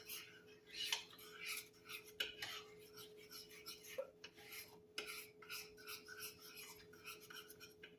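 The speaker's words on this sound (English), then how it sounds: "Now I'm just mixing it all together." Melted chocolate stirred together with coconut oil in a crock pot, giving soft repeated scraping and rubbing strokes of a utensil against the pot, close and quiet, no talking.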